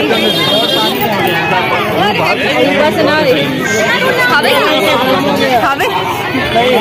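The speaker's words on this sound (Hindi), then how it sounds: "गुपचुप ठेला है ना बहुत ज्यादा भीड़ है" Dense crowd chatter around a busy gupchup street food cart, a steady babble of many overlapping voices close by, with no pauses.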